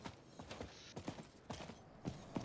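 Horse hooves galloping in Diablo 4 on a hardcore Barbarian run: a steady rhythm of clopping hoofbeats, roughly two strikes per half second, moderately loud and close, with no talk over them.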